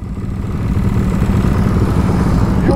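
A custom Honda Dax motorcycle idles close by with a steady low, chugging engine note, running alone without talk for a few seconds.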